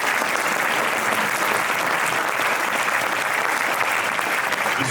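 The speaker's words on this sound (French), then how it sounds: "Merci professeur, on vous applaudit." A conference audience applauds a professor after his talk, a steady dense clapping that fills the whole stretch with no voices over it.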